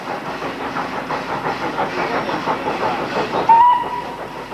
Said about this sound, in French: se laisser bercer par le bruit de la locomotive